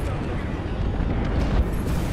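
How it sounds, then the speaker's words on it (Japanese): Airstrike explosions in a video game make a continuous heavy, muffled rumble, with one deeper thump standing out partway through. "空爆来たからちょっと離れるわ"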